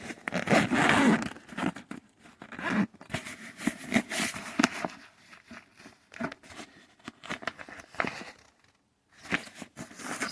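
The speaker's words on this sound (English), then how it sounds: "when you just unzip this, kind of hard to unzip with my hand there" A zipper on a cooler bag is pulled open in several short, ragged, rasping tugs with brief pauses between them, close and fairly clear.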